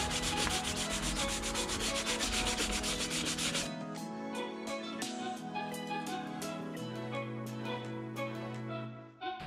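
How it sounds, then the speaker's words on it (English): Bondo filler on a BMW E46 CSL spoiler is sanded by hand in continuous rubbing strokes. The scratching is dense and loud at first, then lighter and more rhythmic, with no one talking. "Wait for that to dry, then we're gonna sand the bondo."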